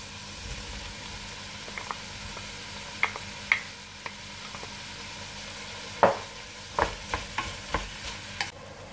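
Lardons dropped into a pan of simmering sausages and lentils: a steady, close sizzle and bubbling with occasional sharp spoon clinks and stirring knocks against the pan.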